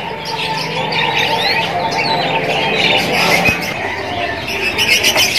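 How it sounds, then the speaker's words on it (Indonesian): Young F3 canary, about two and a half months old, chirping in a lively run of close, high tweets and short squawks, with other birds audible in the background. "Inilah penampakannya kenari F3 anakan."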